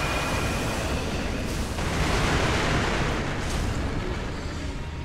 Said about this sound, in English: So here we'll switch to firecrackers.